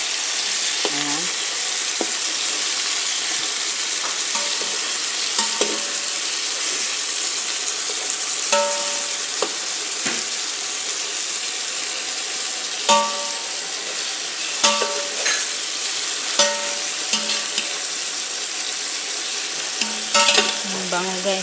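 Chicken fries and sizzles in a pan while being stirred, giving a continuous bright hiss punctuated by repeated clinks and scrapes of the utensil against the pan.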